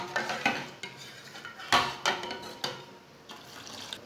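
A spoon stirs milk into tea in a metal pot for karak chai, with a few close, sharp clinks against the pot between quieter scraping and swishing.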